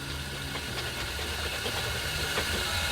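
A polishing machine is switched back on to rinse out a polishing pad, giving a steady, rough motor drone with a faint knocking vibration throughout, close and fairly loud with no voices.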